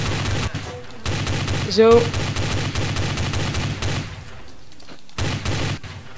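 Rapid automatic gunfire in Counter-Strike: Source, loud and close, firing in sustained bursts with short pauses, while someone talks briefly over it.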